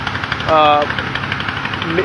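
A heavy ship engine runs with a steady low throb and faint rhythmic knocking, while a short voice-like tone rises briefly over it.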